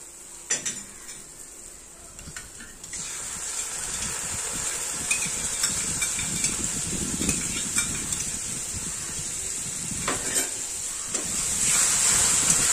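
Fish kalia masala with yogurt cooking in a pan, a continuous soft sizzle of frying under scraping and clinking of a spoon against the pan, with a sharper clatter near the start and middle.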